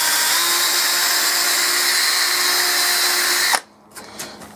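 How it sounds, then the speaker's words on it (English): A power drill whines loudly and steadily for several seconds while driving into wood, then cuts off abruptly, followed by a few faint knocks. "Just drill this in."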